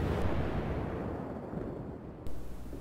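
Cruiser secondary guns firing in the naval game World of Warships, a continuous roaring wash of distant booming shots and rumble with no clear separate blasts, one heavier thump near the end.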